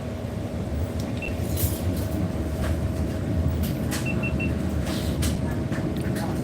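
Inside a carriage on the Da Nang to Quy Nhon train, a steady rumble and rattle of the ride fills the space, with faint clicks and soft squeaks over the continuous low roar.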